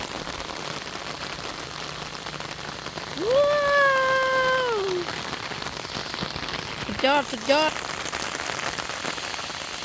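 Steady rain falls on flowering sunn hemp plants and other greenery, a soft, continuous patter close by, while a voice briefly exclaims over it.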